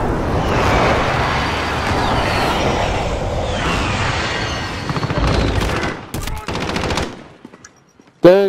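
Rapid automatic gunfire from Call of Duty Warzone on Rebirth Island rattles in loud, dense bursts for several seconds, then breaks into a few sharp separate shots and a final close blast.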